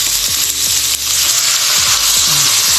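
Pork igado simmering in a hot pan as water is poured in, giving a loud, steady broadband sizzle and bubbling hiss close up, with faint low thumps of handling and no speech.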